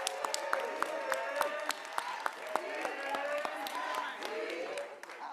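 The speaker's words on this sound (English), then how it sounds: "Let's give them a round of applause." Audience applause at a Chicago Public Schools board business meeting, steady clapping from a seated crowd with sharp individual claps standing out, voices and cheers mixed in, tapering off near the end.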